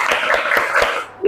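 A classroom of students clapping hands in a rhythmic counting game, several broad claps spaced evenly under a teacher's voice and children's chatter.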